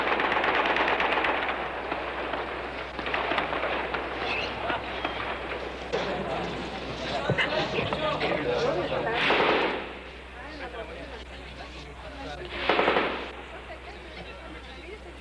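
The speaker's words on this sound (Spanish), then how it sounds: "los tanques intercambian disparos con los carabineros que se encuentran en el interior del Palacio de la Moneda" Tanks and carabineros exchange gunfire at the Palacio de La Moneda during the 1973 coup in Chile, heard as sustained bursts of shots and heavy booms over a dense, noisy wash, with a loud report near the end.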